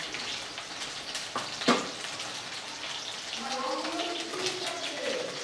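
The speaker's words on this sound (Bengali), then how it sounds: "চিকেন ভাজা হচ্ছে" Chicken pieces fry in hot oil with a soft, steady sizzle, broken by a couple of sharp clatters and crackling bursts, while a voice speaks quietly over the cooking.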